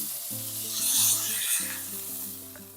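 Flank steak sizzles steadily on a hot cooking surface, a bright continuous crackle with sustained musical tones running underneath throughout.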